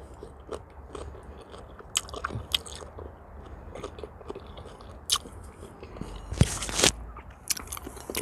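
Loud, close chewing and biting while eating a smoked chicken leg by hand, with repeated wet crunches and smacking bites spread irregularly throughout, the sharpest bursts near the end.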